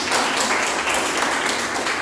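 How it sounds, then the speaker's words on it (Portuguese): An audience at a leadership and emotional balance lecture breaks into dense, continuous applause, a loud, even roar of many hands clapping that lasts throughout. "Uma salva de palmas para ela."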